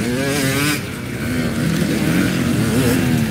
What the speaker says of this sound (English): That bike is fast.